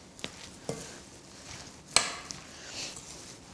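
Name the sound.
tossing quinoa tabouli salad with lemon juice and oil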